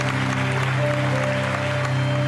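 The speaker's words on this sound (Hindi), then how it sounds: "समीना, आपा के लिए बहुत सही ताली।" Studio audience clapping on a Pakistani TV game show, a steady wash of applause over a sustained background hum and tones.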